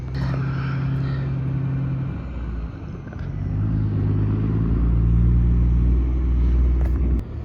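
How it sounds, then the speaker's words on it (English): A truck pulling out of a parking lot gives a steady low engine rumble that dips briefly and then swells as it drives off, loud and close with no talk. "The last time this truck rolls out of this parking lot."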